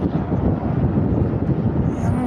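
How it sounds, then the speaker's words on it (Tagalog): A helicopter circles overhead near the San Juanico Bridge, a steady, loud low rotor and engine roar filling the whole stretch with wind buffeting the microphone. "Yung helicopter yan, kanina pa yan ikot ang ikot eh."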